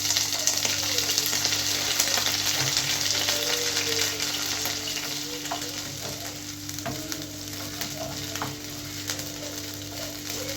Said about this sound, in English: I'll go straight in with my ginger,